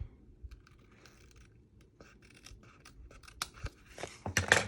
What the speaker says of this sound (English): I'm just going to take my scissors and trace my piece so that it matches my little flap all the way around